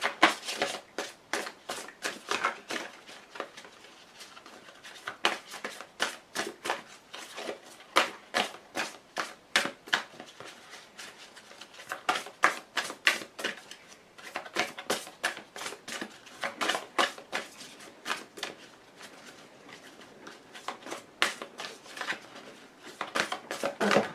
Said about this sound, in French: les cartes sont grandes, c'est assez difficile de les faire sauter